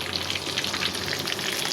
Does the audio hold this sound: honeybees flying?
no